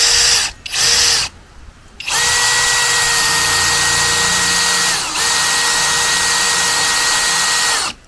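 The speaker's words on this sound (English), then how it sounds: "We're gonna drill into the truck." A power drill with a worn bit bores into the body of a Toyota Tundra truck during a roof rack install, whining loudly and close in two short bursts, then running in sustained stretches with pitch dips under load.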